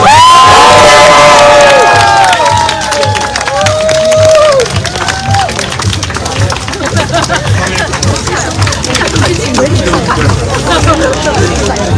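A large gathering at a Walk the Talk 2025 community event cheers and claps loudly, with whoops and overlapping shouting voices over a continuous babble of crowd noise.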